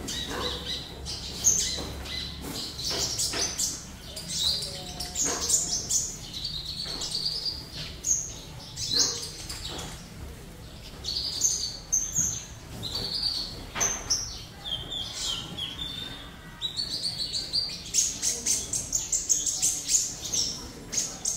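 Sunbird singing its wild-type song, a close, continuous string of high, quick chirps and twittering phrases with short squeaky bursts, going on throughout over a faint background hum.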